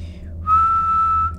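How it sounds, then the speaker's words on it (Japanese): A single sustained whistled note from a person playing the voice-controlled game One Hand Clapping, rising briefly at the start then held steady for about a second, close and clear over a low background hum. "ちょっと口笛やってみるか。"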